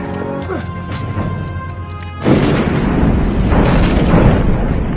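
Film explosion blowing up a Taliban hideout, a sudden heavy blast that swells into a sustained roaring rumble, loud and dense, following quieter tonal movie sound.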